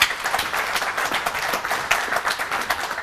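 Studio audience applause on a television talk-show set, a dense, steady wash of many hands clapping at close range with no voices over it.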